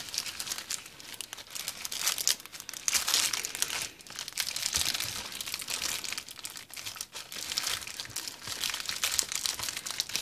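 Crinkling plastic bags being handled and squeezed, producing a dense, continuous crackle of crumpling plastic close up, loud and busy with no pauses, no voices.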